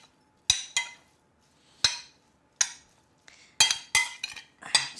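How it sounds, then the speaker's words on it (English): A spoon knocks and scrapes against a bowl while mixing prawn curry ingredients, a series of sharp, close clinks in an irregular rhythm with quiet pauses between them. "And just using my spoon, I'm literally just going to mix everything through."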